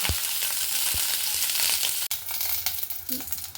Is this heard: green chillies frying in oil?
yes